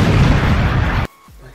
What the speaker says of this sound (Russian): Газ взорвался в итоге.